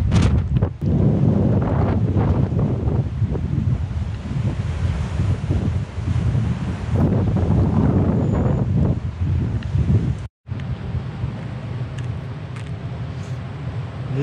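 Strong gusting wind roars across an exposed mountain-top terrace on Mont Saint Baudille, buffeting the microphone in loud, continuous rumbling bursts, with a brief cut near the end before the blustery roar resumes.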